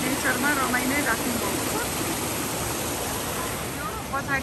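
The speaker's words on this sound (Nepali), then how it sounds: "खोलाको किनारमा एकदमै राम्रो साउन्ड पनि आइरहेको छ।" Water rushes steadily in a forest stream beside a hillside temple in Guwahati, a close, even roar, while a person speaks briefly over it at the start and end.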